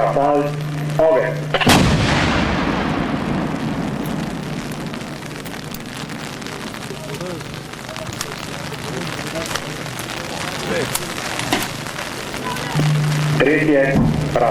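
A battery fires an artillery salvo during a live-ammunition military drill, one sharp loud blast followed by a long fading rumble across the range, with people talking before the shot and again at the end.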